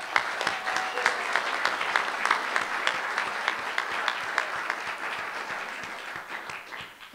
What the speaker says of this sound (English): Give another round of applause to the panel.